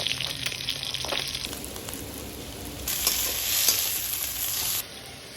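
Fish cooking in a pan, a steady close sizzle and hiss of frying oil with stirring scrapes, growing louder for a couple of seconds before easing back, with no voices.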